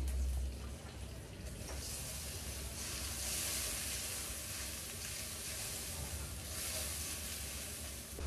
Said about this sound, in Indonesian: Ini minyaknya sudah panas, sekarang kita bisa masukkan bumbu yang dihaluskan.